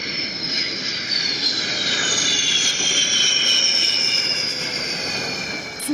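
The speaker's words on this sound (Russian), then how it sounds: "Су-33 идет на посадку." A Su-33 jet coming in to land at the Severomorsk airfield gives a continuous loud jet-engine roar with a high whine that rises and falls slightly in pitch as the aircraft passes, with no talking over it.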